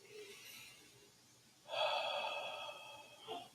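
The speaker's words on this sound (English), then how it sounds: "Taking long, deep breath" One long, deep breath is drawn in, quiet and close, during a guided meditation session, rising after a soft pause and tapering off at the end.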